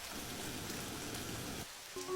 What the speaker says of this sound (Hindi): बाहर काफी तेज बारिश हो रही होती है